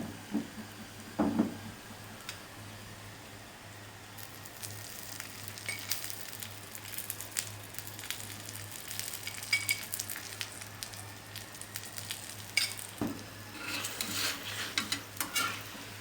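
A stuffed chana dal paratha fries in cooking oil on a pan, giving a faint, steady low sizzle with small crackles and occasional soft clinks of tongs turning it.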